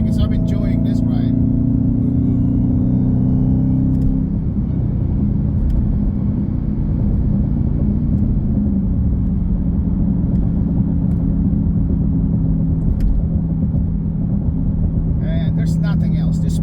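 Supercharged V8 of a Dodge Challenger Hellcat Widebody heard from inside while driving, a steady loud low rumble throughout with pitch shifting slightly around mid-clip.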